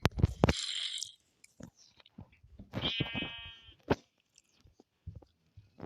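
Minecraft sheep give a few short, nasal digital bleats, separated by quieter clicks and gaps, close and clear with no speech over them.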